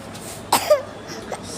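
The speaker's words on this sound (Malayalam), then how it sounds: "എനിക്ക് ചുമക്കുന്നുണ്ടേ." A few short, close coughs burst out in quick succession, dry and throaty, with near silence between them.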